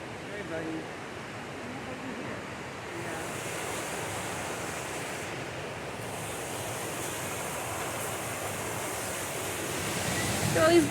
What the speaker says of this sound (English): We spotted waterfalls.